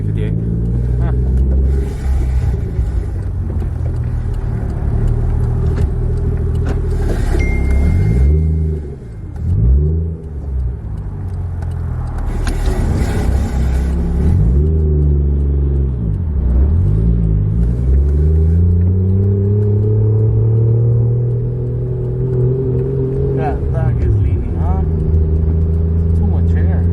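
A Toyota Supra MK3 with a 1JZ VVTI engine runs at around 2,000 RPM, a loud, close, rumbling drone with repeated small rises and dips in pitch, and people talking over it.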